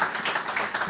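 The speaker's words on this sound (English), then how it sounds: "let's give them all a round of applause for the honor today" Room applause for Saints Hall of Fame inductees at an announcement event, a brief dense burst of clapping from a gathered audience, fairly close and steady.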